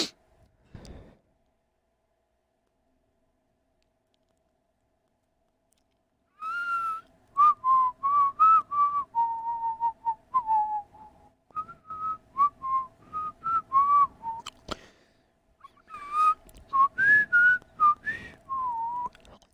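Someone whistles a melody nearby, clear and tuneful, in short phrases with brief pauses between them.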